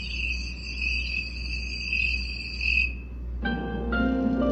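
Crickets chirping from a star projector's nature sound mode, a continuous high trill that shifts to a different, brighter chirping pattern near the end, alone with no talk.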